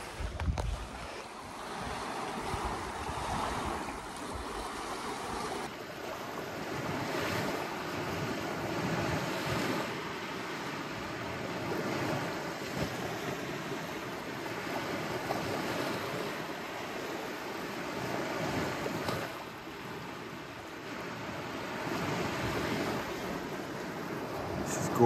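Waves roll steadily onto a Lake Superior beach under strong gusting wind, a constant roar of surf and wind noise buffeting the microphone throughout.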